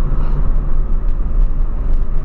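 Ford Fiesta with a Zetec Rocam engine running, a loud steady low rumble heard close up with no voices.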